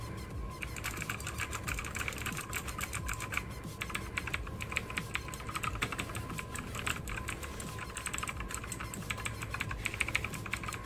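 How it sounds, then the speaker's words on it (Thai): Clicky Outemu Blue switches on an Oker K67 mechanical keyboard being typed on in a steady, continuous flurry of sharp, close keystrokes with no pauses. "คีย์บอร์ดนะครับก็คือเป็นบลูสวิตช์อูเทมุนั่นเองนะ กดให้ฟังกันก่อน"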